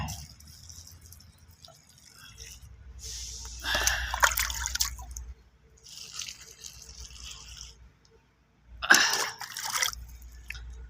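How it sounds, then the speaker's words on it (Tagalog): Water poured down so it soaks straight to the bottom, in a fire setting with heat, giving bursts of splashing and trickling separated by quieter gaps, fairly close. "Pababain ko yung tubig para diretso talaga dun sa ilalim."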